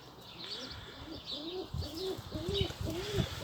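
Pigeons, racing homer champion pairs with young birds, cooing in a loft: repeated soft, low, rhythmic coos close by over quiet background rustle, with no talk.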